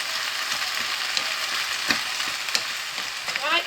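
Mushrooms for a chicken curry fry in a pan with a steady, fairly loud broadband sizzle, broken by a few stirring scrapes and small pops, with no voices.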